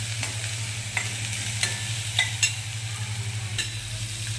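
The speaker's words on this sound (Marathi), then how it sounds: "शिमला मिरची टाकून घ्यायची त्याच्यात। दोन मिनिटांसाठी परतून घ्यायची।" Capsicum is sautéed in a pan for a sweet corn recipe, giving a steady, fairly close sizzle over a low hum, with occasional light spatula ticks.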